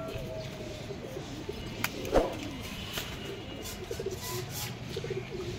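Domestic pigeons of old fancy colored breeds coo continuously at close range in a busy loft, a steady low murmur of overlapping calls with a few louder flutters and knocks.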